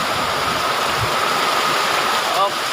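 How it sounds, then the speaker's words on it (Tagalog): Heavy rain from Super Typhoon Inday pours down as a dense, steady hiss and rush close by, with a brief squeak near the end. "Grabe, lakas ng ulan,"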